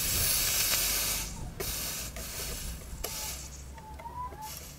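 Soldering a fishing hook into a homemade perch lure, filling the head with solder: a steady hiss with faint sizzling fades after a second, leaving quieter crackles and small metallic ticks, with no voices.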